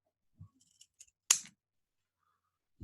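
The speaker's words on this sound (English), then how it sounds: "this rough bit we're going to cut off" Scissors cut the rough end off a lulav palm leaf: one sharp, close snip stands out among a few faint clicks and soft handling sounds in a quiet room.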